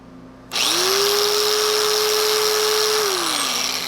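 Bauer belt sander from Harbor Freight switching on from a quiet room, spinning up with a rising whine into a loud, steady high-pitched drone that holds alone for several seconds before the pitch starts to sag slightly.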